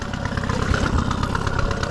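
A fishing boat's small engine, restarted after stalling from a fuel-line problem with the choke pulled open, runs at a steady, close, loud idle with an even rapid chugging throughout.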